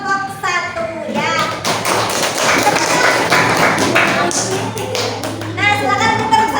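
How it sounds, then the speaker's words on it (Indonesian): Schoolchildren in a classroom burst into a dense patter of applause for a group of classmates, the clapping filling the middle stretch, with an adult's voice speaking just before and after it. "beri tepuk tangan untuk kelompok satu ya"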